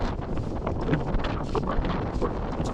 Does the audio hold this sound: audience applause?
no